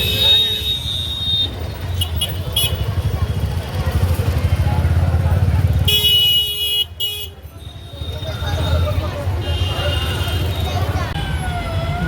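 Festival traffic jam near Sadar Bazaar market in Gurugram on Dhanteras: a steady low rumble of engines with sharp bursts of honking from cars and motorbikes, and people talking amid the street noise.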